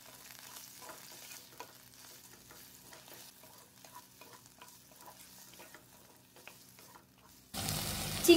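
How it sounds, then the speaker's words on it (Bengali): Shrimp and tomato fry lightly in oil with a soft, faint sizzle and occasional stirring clicks, before a louder hiss swells at the very end. "একই তেলে অ্যাড করে দিচ্ছি চিংড়ি আর টমেটো। হালকা ফ্রাই করে নিচ্ছি।"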